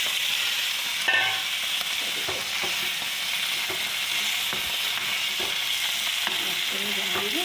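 Fried fish pieces go into boiling curry, which sizzles and bubbles steadily throughout. Occasional light clinks and scrapes of stirring sound nearby, with no talking.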